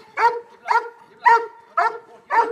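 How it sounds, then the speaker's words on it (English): A police dog barks five times on command, the sharp barks coming at an even rhythm, loud and close, with no talk over them. "I'll make my dog bark."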